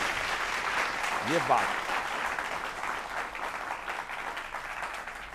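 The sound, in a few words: audience applause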